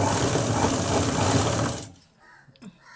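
A sewing machine stitching the front part of a blouse runs as a loud, close, continuous mechanical whir for about two seconds, then stops, leaving a few faint handling clicks.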